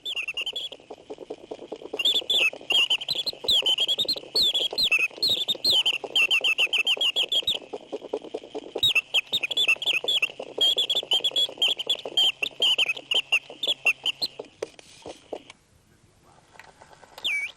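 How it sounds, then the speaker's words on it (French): A mechanical singing-bird automaton in a clock museum warbles in rapid, bright trills and chirps. The song is loud and close over a busy whirring mechanism and runs in two long bursts before the movement winds down. "Oiseau dansant, oiseau chanteur."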